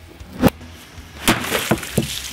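An axe hammerhead smashes an object at an armored combat workshop, a sharp crack followed by several more splintering, crunching impacts, close and loud with no talk.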